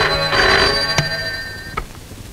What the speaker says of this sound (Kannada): ಸರ್ ನಿಮಗೆ ಫೋನ್